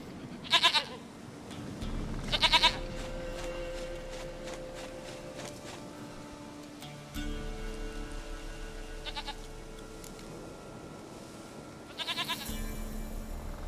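A goat in The Witcher 3 bleats several times in short, loud, wavering cries spaced a few seconds apart, over a low, steady background of game ambience.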